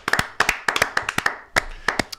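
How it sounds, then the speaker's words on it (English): A small group claps in a quick, uneven round of applause, sharp close hand claps arriving in clusters with brief gaps, no voices over it. "A round of applause for them."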